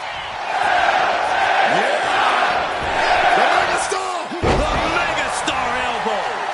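A wrestling lariat slam lands with a heavy thud over a roaring arena crowd in the WWE 2K26 video game, with a commentator's voice and crowd cheers around the impact.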